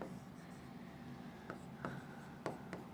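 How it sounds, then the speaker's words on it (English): Chalk or marker writing on a board in a classroom lecture, a faint steady scratch with several sharper taps and strokes, quiet and close, with no talking. "Let me write it for you."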